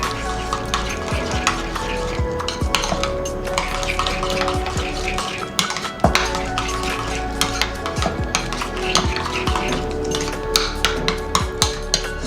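Burger sauce ingredients with Himalayan salt being mixed together in a bowl, steady close scraping and stirring with occasional clinks of utensil on dish, no talk.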